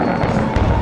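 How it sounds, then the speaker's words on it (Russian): Fireworks at a Turkish resort's farewell evening show: a short stretch of dense, continuous crackling and booming heard from a distance, with faint crowd noise underneath. "Салют!"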